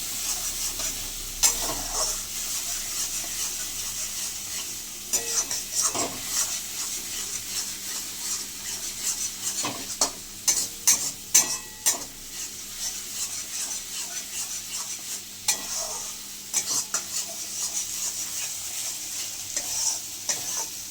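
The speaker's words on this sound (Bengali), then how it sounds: "মশলার কালারটা একটু ভালো করে নাড়াচাড়া করতে হবে যাতে কাঁচা গন্ধটা না আসে" A spoon stirs spice masala frying in oil in a pan for chicken curry, soft continuous sizzling under irregular scraping and clattering strokes that come in bursts, loudest in the middle stretch.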